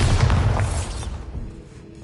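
A Bombarda blasting spell in Hogwarts Legacy explodes in a single loud, deep boom that rumbles and then fades over about two seconds, with no voices.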